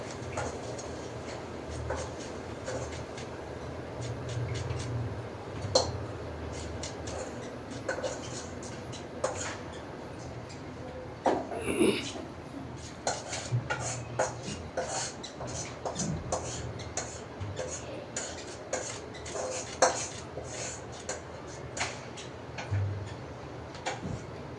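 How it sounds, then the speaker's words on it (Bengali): A knife chops okra against a board in a home kitchen, tapping in quick, fairly regular strokes close by over low background hum, with some quiet talk. "এখন তো ঢ্যাঁড়সটাও কুচি করে নিব"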